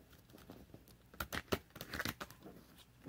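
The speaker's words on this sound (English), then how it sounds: "me shuffle this deck a little bit here." A deck of cards being shuffled by hand, a few close, crisp riffling and flapping bursts clustered in the middle, fairly quiet and with no talking.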